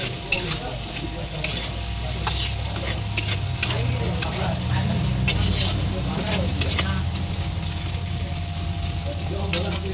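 Onions fry in a pan of ghee and refined oil, a constant close sizzle broken by repeated scraping and clinking of a spoon stirring.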